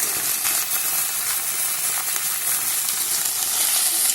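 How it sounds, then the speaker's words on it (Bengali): Vegetables stirred in hot oil and spices in a pan for Bengali vegetable khichdi, carrots, beans and potato pieces included, a loud continuous frying sizzle with soft scraping of the stirring, no voices. "দিয়ে ভালো করে নেড়ে চেড়ে আমি মশলার সাথে তেলের সাথে ভালো করে মিশিয়ে নিয়েছি।"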